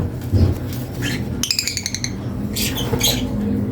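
African lovebird hen giving sharp, high chirps and squawks in a few quick bursts, with a rapid run of clicking notes in the middle, close and clear over a low background hum.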